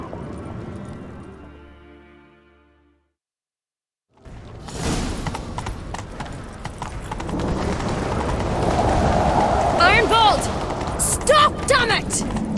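Rhythmic hoofbeats of a galloping horse in The Witcher 3: Wild Hunt come in after a quiet gap, mixed with busy game effects, whooshes and sharp impacts, fairly loud and close.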